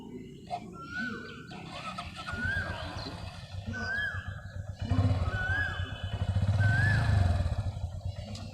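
A motorcycle idling and slowly pulling away during a first riding practice, a low engine rumble rising toward the end, with whinny-like squeals and outdoor background noise.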